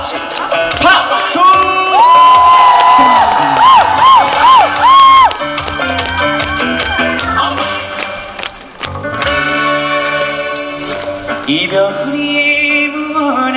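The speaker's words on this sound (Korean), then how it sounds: "같이 박수!" An outdoor crowd claps along at a celebratory concert, the steady rhythmic claps mixed with cheering under loud amplified singing and band music.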